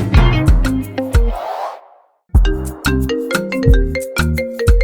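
A loud electronic phone ringtone plays a bright repeating melody, pauses briefly, then starts over.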